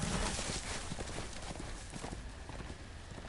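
Horse hooves clop in a Game of Thrones video game, a dense run of steady hoofbeats under a noisy, busy game soundscape.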